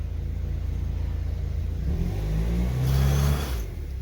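A BMW Z3's engine revs up while the car sits bogged and stuck, a steady rumble swelling to a louder, strained roar near the end before easing back.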